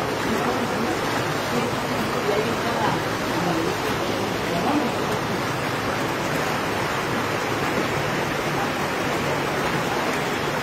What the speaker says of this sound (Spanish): parecía como si se tratara de un río embravecido